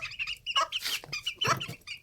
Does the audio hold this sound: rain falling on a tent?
no